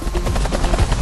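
A news helicopter flying over city traffic gives a loud, continuous rotor thump with rapid rhythmic beating, close and dominant with no voices.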